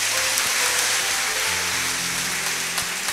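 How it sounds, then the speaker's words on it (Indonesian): Loud, sustained applause from a church congregation at a youth worship service, a dense even wash of clapping that continues steadily throughout without speech. "tepuk tangan paling besar"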